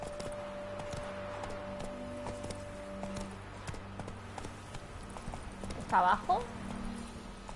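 A horse's hooves clip-clop at a walking pace in the video game The Witcher over background music, with someone talking and a brief louder snort or whinny near the end.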